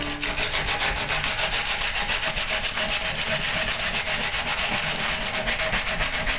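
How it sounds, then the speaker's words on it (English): Close, loud, continuous sanding of a wooden guitar neck with 80 grit sandpaper, rhythmic back-and-forth rasping strokes in quick regular succession with no voices. "I'll use a 80 grit sandpaper to just put a little finish on it."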